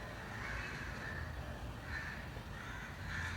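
Crows cawing at a distance in a steady outdoor ambience, several repeated harsh calls at irregular intervals, faint over background noise.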